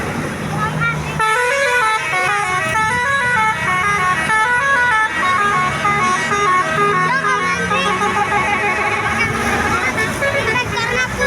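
A Basuri telolet musical bus horn plays a loud, fast melodic toot pattern, repeating in bursts and growing busier, with voices audible under the horn.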